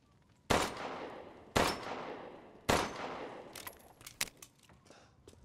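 Three loud, separate gunshots fired in Resident Evil Village VR, each ringing with a decaying tail, followed by a quicker flurry of fainter clicks and small impacts, with no talking.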